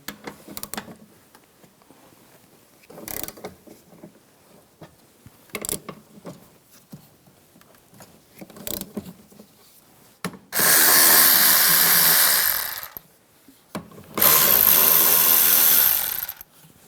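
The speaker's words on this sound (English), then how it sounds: "Using a 14mm socket, take this nut off and this nut." Bursts of a power tool spinning off the 14mm strut nuts on a 2004-2009 Toyota Prius, two long loud runs near the end after several brief clicks and knocks.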